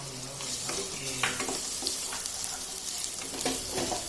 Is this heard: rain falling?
no